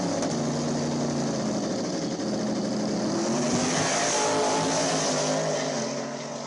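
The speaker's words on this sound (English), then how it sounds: "It's got a badass Hemi in it." A drag race car with a Hemi engine roars steadily and loud through a small-tire race pass, the engine note droning continuously before easing off at the end.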